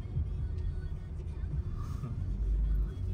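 Old local vehicles idle and creep along in a traffic jam in Bali, a low, steady rumble of engines close by with faint voices in the background.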